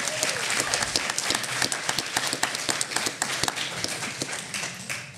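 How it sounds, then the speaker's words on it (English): Applause from a fairly large crowd at a live podcast recording in Austin, steady clapping with scattered sharp claps, heard from a moderate distance. "Everybody give yourself a round of applause."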